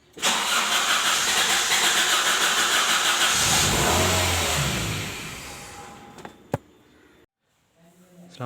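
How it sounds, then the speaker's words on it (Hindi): A 2004–05 Toyota Corolla with a starting fault cranks and fires, running loudly and roughly for several seconds before the engine dies away, followed by a couple of sharp clicks and near silence. "गाड़ी स्टार्ट होती है और स्टार्ट होने के बाद बंद हो जाती है"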